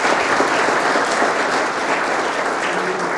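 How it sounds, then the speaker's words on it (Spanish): A large audience at a public health forum in Mexico applauds to welcome a speaker, a dense and steady clapping that continues loudly throughout. "Un fuerte aplauso, por favor, para recibir al doctor José Santos Preciado."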